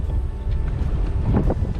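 Steady wind buffets the microphone on a boat by the water, a constant low roaring rumble with gusty swells, and no one talking.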